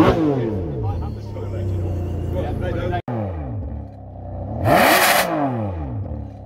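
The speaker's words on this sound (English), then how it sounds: "He said, give it a blip with a throttle." A Ferrari 599 GTS V12 engine revs up and falls back through repeated throttle blips, rising and sinking in pitch, loud and close at a car meet, with a brief cut partway through.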